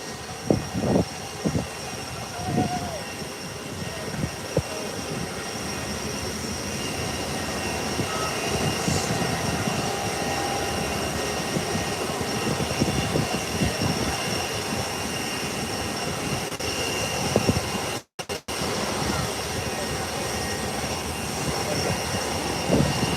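A Gulfstream G5 jet takes off at Howard Hamilton International Airport, its engines giving a sustained, distant roar with a faint whine on top. The roar drops out for a split second near the end.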